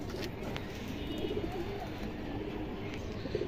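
A silver pigeon coos in low, repeated throaty phrases close by, steady over a faint background hum, with no talking.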